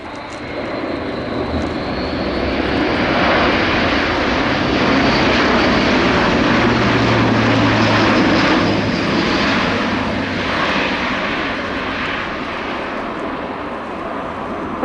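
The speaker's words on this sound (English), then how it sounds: "The A400 is sized between the C-130 Hercules and the Boeing C-17 Globemaster" German Luftwaffe Airbus A400M turboprop airlifter with four TP400 engines in a display flight at RIAT Fairford, a loud, sustained broadband propeller roar swelling as it passes close and slowly fading.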